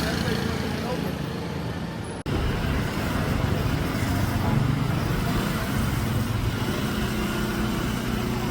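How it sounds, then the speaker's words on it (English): Dense street traffic rumbles through Ho Chi Minh City, a continuous roar of engines, motorbikes and passing vehicles, loud and close, with a brief dropout partway through and people talking beneath. "this traffic isn't for everyone"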